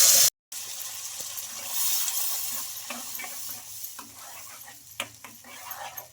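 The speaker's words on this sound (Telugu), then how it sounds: "ఒక రెండు నిమిషాలు అయితే బాగా పచ్చి వాసన పోయే వరకు అయితే ఫ్రై చేసుకోవాలి" Tomato paste fries with cumin, mustard seeds and curry leaves in a pan, giving a soft sizzle broken by scattered clicks and taps of stirring, after a brief loud burst and a moment of silence at the start.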